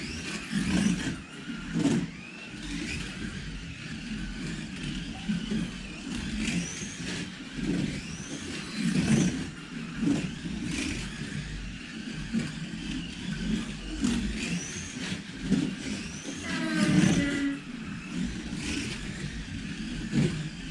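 GT3 race car in a qualifying session accelerating hard, its engine rising and falling through gear changes in repeated surges, heard close and steady for about twenty seconds with no voices.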